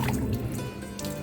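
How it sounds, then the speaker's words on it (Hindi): Water is poured onto plants from a bucket, a close, soft splashing and trickling that runs steadily for a moment, with no one talking. "तो अपन डाल देंगे झाड़ों को पानी।"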